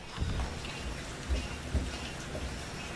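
A thunderstorm brings steady, dense rain hissing on surfaces, with a few low thumps and rumbles of thunder rising out of the wash.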